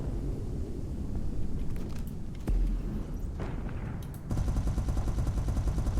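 Rapid bursts of sci-fi weapon fire and blasts in space combat in the game SpaceBourne 2, a deep boom partway through, then dense continuous crackling fire.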